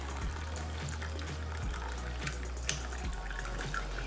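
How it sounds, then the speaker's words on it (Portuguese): Ginger tea being poured into a cup, a steady liquid stream running close and continuous for the whole stretch, with no talking over it. "Agora eu vou passar aqui o chazinho aqui pra xícara."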